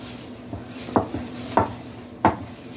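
Keto cookie dough is worked in a bowl with a utensil, three distinct scraping knocks against the bowl spaced about a second apart over quiet background, no talk.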